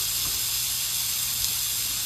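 Skirt steak for fajitas sizzles in a hot pan, a steady bright hiss that stays even and close throughout, with no voices over it.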